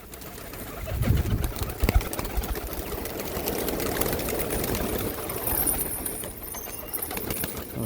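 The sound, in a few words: domestic pigeons released from rooftop coop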